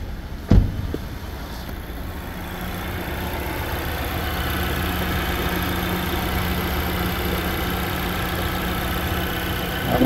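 A Changan CS95 engine idles steadily just after a timing belt replacement, a continuous mid-low hum with one brief knock near the start and no talking.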